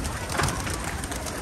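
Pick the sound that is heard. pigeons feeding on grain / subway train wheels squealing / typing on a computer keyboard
pigeons feeding on grain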